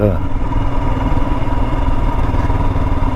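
A 2022 Royal Enfield Himalayan motorcycle riding along a forest road past ice and a stream, its engine a loud, steady low rumble with a mechanical clatter throughout and no break.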